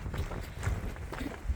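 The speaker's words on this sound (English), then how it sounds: "it's still windy, but it's not gusting the way that it was" Steady wind blows outdoors on the Pacific Crest Trail, a broad rumbling rush against the microphone with soft thumps that could be footsteps, loud and close throughout.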